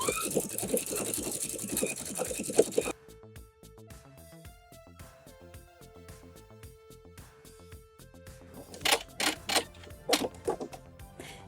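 A home sewing machine stitches a pocket bag for wide-leg pants down the middle of a serged edge, a quick burst of motor buzz at the start and again near the end, with quiet tonal music between.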